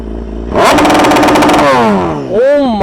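A BMW HP4 Race motorcycle with an SC Project exhaust sits idling, then revs hard and loud for launch control, holds at high pitch with a popping rattle, drops, and revs again.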